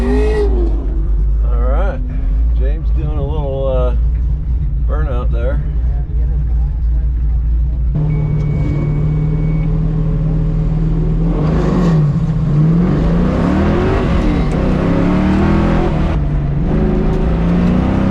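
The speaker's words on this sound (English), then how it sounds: "James doing a little burnout there." A 1968 Camaro at an SCCA ProSolo autocross event revs and spins its tires in a burnout, engine roaring steadily over a loud constant drone, with people talking and cheering throughout.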